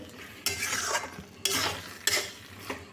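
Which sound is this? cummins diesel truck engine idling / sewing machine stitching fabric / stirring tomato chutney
stirring tomato chutney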